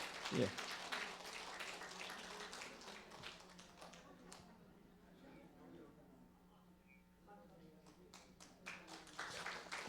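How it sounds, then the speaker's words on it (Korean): A church seniors' college audience in Korea claps for an elderly attendee: a brisk burst of hand clapping at the start fades to quiet, with talk in between and scattered claps returning at the end. "이제 박수 좀 쳐드리시죠"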